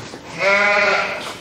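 A small, weak, hypothermic lamb bleats once inside a heated hot box, a single close, clear, wavering cry lasting about a second.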